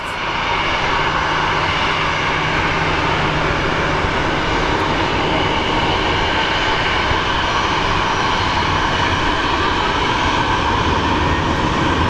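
A Southwest Airlines jet at Phoenix Sky Harbor airport roars steadily and loudly for the whole stretch, a broad continuous engine rush without a break and with no voices over it.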